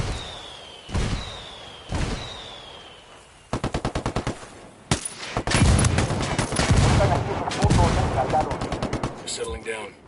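Machine gun fire in the video game Ghost Recon Wildlands: two single loud shots come first, then rapid automatic bursts and sustained rattling fire, loud and close, with brief pauses between volleys.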